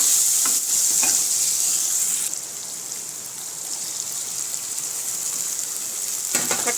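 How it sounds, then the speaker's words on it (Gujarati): Onions and red chillies sauté in a hot pan for a South Indian dish, with a steady, close, hissing sizzle that dips briefly before crackling on. "લાલ મરચાં, ડુંગળી નાખી દઈશું અને ડુંગળીને આપણે સરસ રીતે સતળાવા દેવાની છે"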